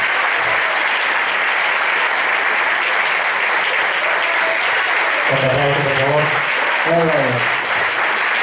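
An audience at a live group performance event claps loudly and continuously. A voice speaks briefly over the applause near the end.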